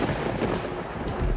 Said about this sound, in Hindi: आसमान में बादल काले हो गए और बिजली कड़कने के साथ जोर से बारिश शुरू हो गई